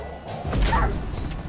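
Wild dogs in The Witcher 3 give a sharp bark amid a thudding scuffle of combat, close and fairly loud, with brief clatter around it.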